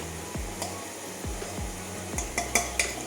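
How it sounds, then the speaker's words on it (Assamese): Chicken pulao stirred in a pot with a spoon, giving a series of soft scraping strokes and light clinks against the metal, with a faint sizzle underneath and no talking. "আমি পোলাওখিনি অকণমান লৰাই দিব লাগিব"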